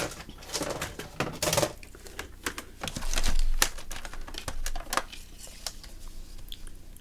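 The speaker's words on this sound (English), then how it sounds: "I'm just going to score it at 1/2 inch on each edge" A paper belly band for a handmade journal is scored with a tool, giving short scratchy strokes and light taps in irregular bursts, close and quiet with no talking.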